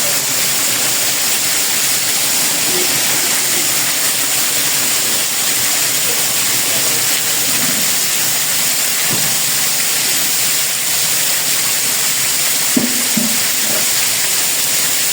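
Heavy rain pours down like a waterfall over an outdoor pool deck, a dense and constant roaring hiss that holds steady throughout, with a few faint knocks beneath it.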